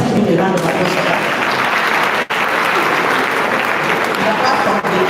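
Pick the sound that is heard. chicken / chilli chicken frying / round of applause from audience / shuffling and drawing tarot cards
round of applause from audience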